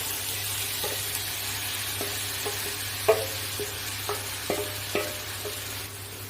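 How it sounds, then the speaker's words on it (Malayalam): A radish poriyal stir-fry being stirred in a pan with red chillies and a spice mix, a spoon scraping and clinking at an irregular pace over a steady low sizzle, close and clear with no voices. "നന്നായിട്ട് ഇതുപോലെ ഇളക്കി യോജിപ്പിക്കാം."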